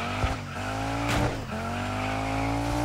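An off-road car slides across dirt in DIRT 5, its engine droning at a steady high pitch while tires scrub and skid, with a couple of brief scraping bursts as the slide shifts.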